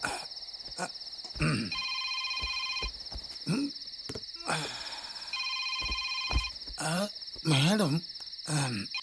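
A telephone rings in repeated electronic trills, several bursts with short gaps, while voices speak over and between the rings and scattered knocks and movement sounds carry through a scene.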